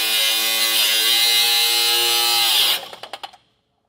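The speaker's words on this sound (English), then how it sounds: "I'm gonna go ahead and just cut them off. I've got a cutting wheel here." A power tool's cutting wheel slices through rusted trailer U-bolts with a loud, steady high whine for nearly three seconds, then winds down and stops with a few quick sputtering pulses.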